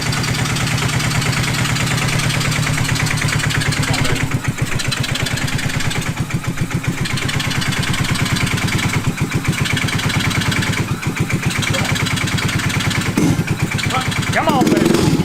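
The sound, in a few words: mini jeep with 190cc engine running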